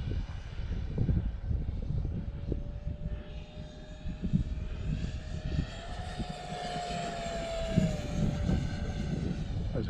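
RC model T-33 Shooting Star jet flying on a 4S 1300 battery, a distant steady whine with a rising then falling pitch as it passes, over gusty wind buffeting the microphone.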